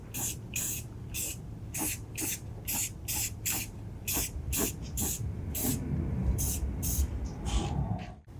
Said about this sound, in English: I'm just going to blast over. All the bare metal areas will be covered in paint